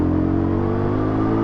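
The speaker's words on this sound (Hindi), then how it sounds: "अभी मैं रेव कर रहा हूँ" Yezdi Scrambler motorcycle engine revving at high RPM, a loud, steady, close buzzing drone held for the whole short moment with a slight rattle underneath.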